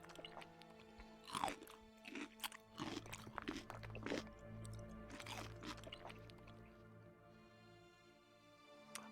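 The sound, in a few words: jaws crunching and chewing rubble of stone and wood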